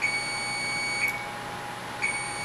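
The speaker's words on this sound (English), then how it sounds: "You're not going to be beeping for 10 minutes, are you?" A kitchen timer beeps three times at a steady one-second interval, loud, sharp and close, with no talking over it.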